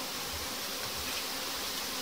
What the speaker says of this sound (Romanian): aici avem roiul